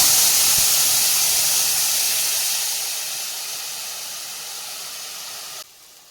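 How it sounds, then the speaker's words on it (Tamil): Tamarind water poured into a pan of simmering okra curry hisses and sizzles loudly at first, the steamy crackle gradually easing before cutting off abruptly near the end. "நெல்லிக்காய் சைஸ் புளி கரைச்சி வச்சுருக்கோம்ல, அதை ஊற்றிக்கலாம்."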